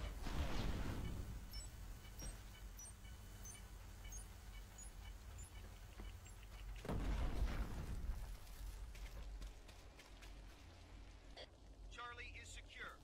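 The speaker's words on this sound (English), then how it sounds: "Throwing grenade." Grenade blast in a tactical shooter game, a loud broadband boom opening the clip and a second heavy burst midway, over steady rain-like ambient noise with faint radio chatter near the end.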